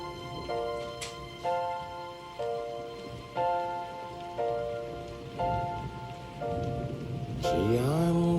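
Steady rain patters on a surface in a movie scene while a voice sings a slow tune in sustained held notes over the continuous hiss of falling water.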